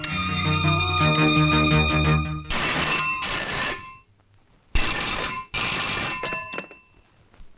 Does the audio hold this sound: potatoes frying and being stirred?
no